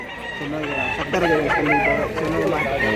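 A white rooster at a poultry seller's crows once in a long, wavering call, close and loud, with people talking nearby.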